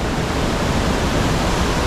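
A waterfall in Da Lat, Vietnam roars as a steady, dense broadband rush, loud and unbroken with no voices over it.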